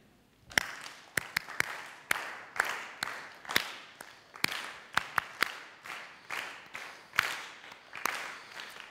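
An audience claps a rhythm together, a dense series of roughly sixteen group claps in a steady beat, each one smeared slightly by many hands landing not quite in unison, fairly close and clear.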